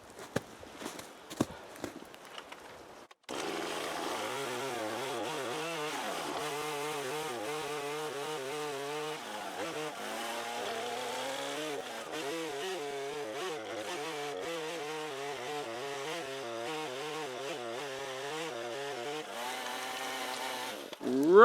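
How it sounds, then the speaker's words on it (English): A chainsaw makes a plunge cut into a standing tree being felled, roaring loudly and steadily for about eighteen seconds after a few quiet knocks and handling sounds, with its pitch wavering as the bar bites into the wood. "Then I'll do a plunge cut in here and cut out toward the V."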